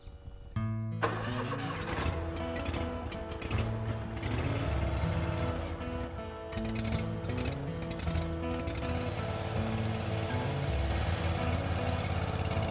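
A riding lawn mower, in neutral with its parking brake on, cranks and catches after a brief quiet moment, then settles into a steady, loud, close engine idle that holds for the remaining dozen seconds.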